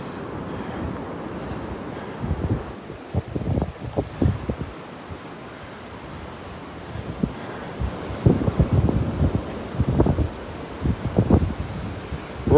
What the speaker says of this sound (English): It's just that doggone wind.